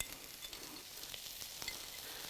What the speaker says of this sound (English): If you don't hear that sizzle anymore, something's wrong.